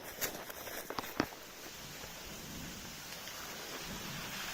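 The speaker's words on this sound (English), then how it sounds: "but that's thunder" Faint thunder during a brief rain shower on a trail loop in Big South Fork, Tennessee, with a few low rumbles and cracks early on, then soft steady rain hiss continuing alone.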